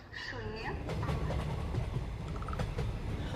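Train running on rails, with a steady rumble and faint rhythmic clatter throughout, used as a background effect in a Hindi horror story; a brief higher tone rises near the start.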